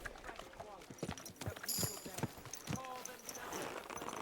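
Horse hooves clip-clop along a road in Kingdom Come: Deliverance II, an uneven run of close hoofbeats with voices talking over them.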